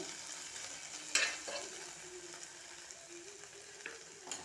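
Okra frying in oil gives a soft, steady sizzle close by, punctuated by a few sharper stirring scrapes and clicks of a spatula.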